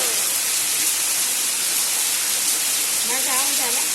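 A waterfall roars as a dense, steady broadband rush that fills the whole stretch, loud and unbroken, with a voice faintly audible beneath it near the end.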